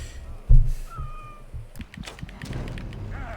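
A cat in Assassin's Creed Origins gives a short close meow, then brief scuffling and rustling game sounds follow, with no talk over it.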